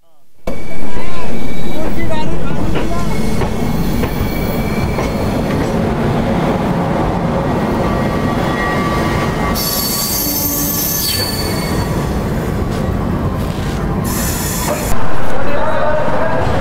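Rajdhani Express train rolling on rails, loud and close, with steady rumbling wheel noise and sharp high-pitched wheel squeal, swelling around the middle and again near the end.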